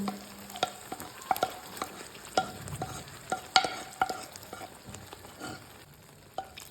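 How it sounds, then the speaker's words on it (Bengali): Boiled red lentils stirred into sizzling fried spice paste in a pan: a spoon knocks and scrapes the pan in irregular strokes over a steady, moderate background sizzle, close and alone. "এবার আমি সেদ্ধ করে রাখা ডালটা মশলার মধ্যে দিয়ে দেবো"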